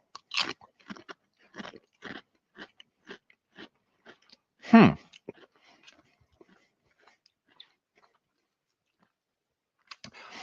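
Crunchy Pringles potato chips being chewed close to the mic, a run of short regular crunches followed by one louder bite, then quiet with a few faint crunches at the end.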